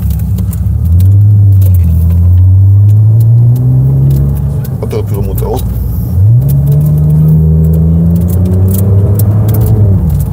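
Opel Insignia OPC V6 turbo, stage 1 tuned to 300 hp, revs up twice with a deep, loud burbling engine note that rises and falls, close by, while someone talks over it.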